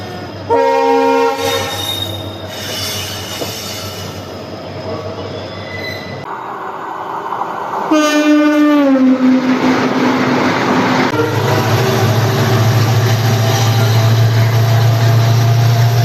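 A WDG4D diesel locomotive hauls the Rajkot–Porbandar Express, heard up close with a loud, steady rumble of rolling wagons, squealing wheels and repeated horn blasts that swell into a heavier, louder roar in the second half.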